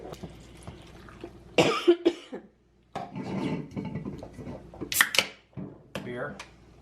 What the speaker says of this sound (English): She's over there choking.